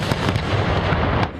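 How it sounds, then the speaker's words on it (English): Loud explosions shaking a house: a rapid series of sharp, booming bursts, close and forceful, heard alone without talk. "It was quite an explosion."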